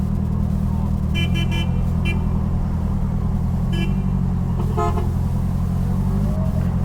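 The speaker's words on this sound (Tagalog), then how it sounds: "Grabe, traffic dito mga dre." Busy road traffic with idling engines and a steady low rumble fills the scene, broken by several short car horn toots in quick bursts, some close and loud, others farther off.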